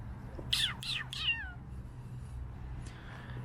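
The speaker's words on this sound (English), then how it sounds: "And I found the Bright Street cat." Three distinct cat meows in quick succession, fairly close, outdoors on an evening street of brick row houses in Toronto's Corktown and Regent Park, over a steady low background hum, then quiet.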